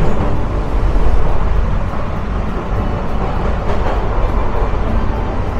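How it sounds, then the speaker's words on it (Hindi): A normal local train passes by at an Indian railway station, its steady, loud rumble and rolling clatter filling the scene from start to finish with no voices. "ये निकल रही है नॉर्मल लोकल ट्रेन"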